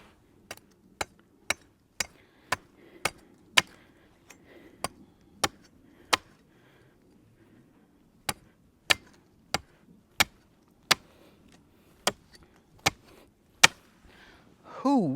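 Wood is chopped while a bow is carved outdoors at a campsite: a steady series of sharp, close chops in two runs, roughly twice per second, with a brief pause between runs and faint background noise.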